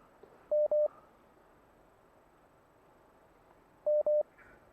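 A phone line rings through on a radio call-in show with two pairs of short electronic tones, one early and one near the end, over a faint hiss.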